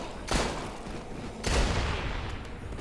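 Gunfire in the video game Dead Rising 3 comes as two sharp, loud blasts about a second apart, each trailing off into a rumbling decay over low background noise, with no voices.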